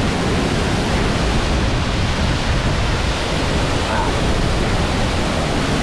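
Shuiyun waterfall pouring down hard, a loud, dense roar of crashing water that fills the whole span without pause, close and overpowering.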